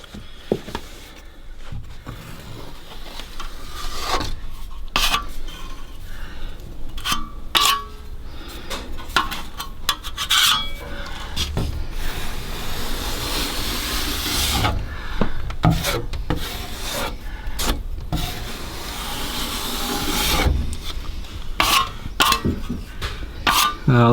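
Turbo Builders Bog wood filler being spread with a scraper over rotted window timber, producing close, uneven rubbing and scraping strokes with occasional sharp taps and pauses over about twenty seconds.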